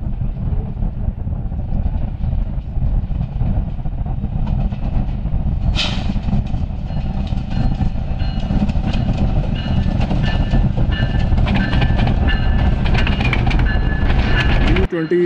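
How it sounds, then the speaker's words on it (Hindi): Two Awam Express trains meet at Gujar Khan railway station, one of them led by a ZCU-20 diesel locomotive: a loud, steady rumble and clatter of rolling wagons runs throughout, with a sharp horn-like burst partway through. "दोनों सिस्टर ट्रेन आ रही हैं 13 अप और 14 डाउन अवाम एक्सप्रेस।"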